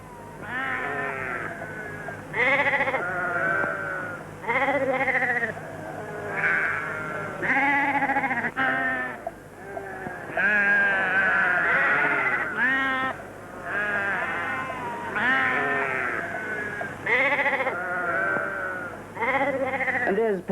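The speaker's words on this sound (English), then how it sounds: "A flock of sheep in the middle of the main street." A flock of sheep bleats continuously while crossing the main street of a small country town, with many overlapping wavering calls near and far, loud and steady throughout.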